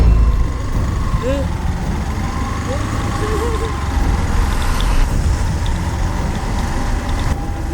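A motorcycle engine runs with a steady, close rumble that holds evenly for the whole stretch, with no voices over it.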